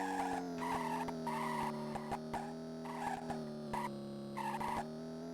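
A video game car in Midway Arcade Treasures 3 drones at a steady engine pitch while tire skids repeatedly squeal over it, with sharp clicks scattered throughout.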